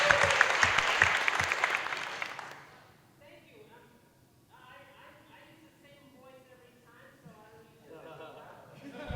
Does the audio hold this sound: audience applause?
yes